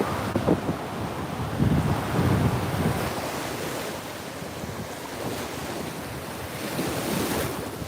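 Ocean waves wash steadily onto a beach while wind buffets the microphone, a loud continuous roar of surf and gusts with no voices.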